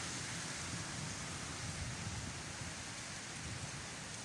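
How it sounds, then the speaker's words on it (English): Steady rain pours during a thunderstorm in Santa Ponsa, a dense, even hiss of falling water close by with no voices or pauses. "I think there was about 2 or 3 thunderstorms in one go."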